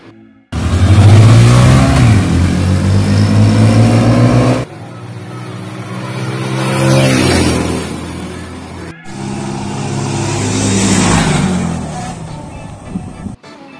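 Hero Splendor and Honda CD110 motorcycle engines rev hard and accelerate in loud, rising bursts during a drag race, fading and returning across several passes with no talking.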